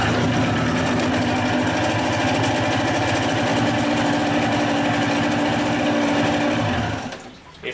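A Johnson 30 hp outboard engine runs steadily with a buzzing drone and a fast firing pulse, loud and close, before it cuts off abruptly near the end, leaving a brief quiet.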